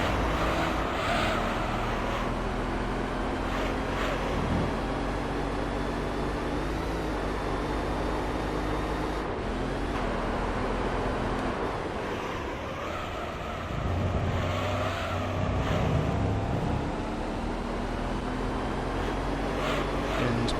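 Race car engines droning steadily in Gran Turismo 3 on the Seattle circuit, including a Cobra, a continuous loud engine roar with slight pitch shifts throughout, no pauses, heard alone.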